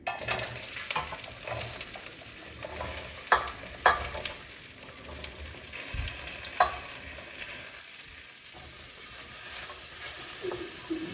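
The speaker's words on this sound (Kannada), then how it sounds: "ಎಣ್ಣೆ ಹಾಕೊಂಡ್ಬಿಟ್ಟು ಬೆಂಡೆಕಾಯಿ ಕಟ್ ಮಾಡಿ ಇಟ್ಕೊಂಡಿದ್ನಲ್ಲ ಅವ್ನು ಹಾಕೊಂಬಿಟ್ಟು ಹುರ್ಕೊತಿದ್ದೀನಿ" Cut okra fries in oil in a pan, giving a continuous sizzle and hiss broken by several sharper scraping knocks as it is stirred; no one speaks.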